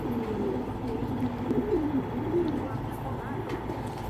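Racing pigeons coo in low, steady rounds, the throaty calls blending into a constant background hum and rumble, close and moderately loud throughout.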